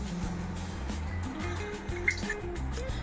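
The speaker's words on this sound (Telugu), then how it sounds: "ఒక మిక్సర్ జార్ తీసుకొని ఇందులో మనం ప్రిపేర్ చేసి పెట్టుకున్నటువంటి ఈ నీటిని వంపేసేయాలి" Soaking water pours and gurgles into a mixer jar, a soft continuous trickle with occasional drips, quiet and close.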